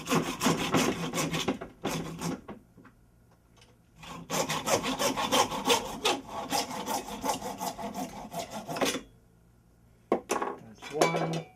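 A hand saw makes a 12-inch cut for a whisk eggbeater TV antenna, with rapid rhythmic rasping strokes in several bursts separated by short pauses, close and fairly loud, and no voices over it.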